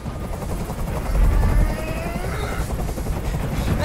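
A helicopter in the video game Detroit: Become Human drones overhead as a loud, continuous low rotor rumble, swelling briefly before settling into a steady roar.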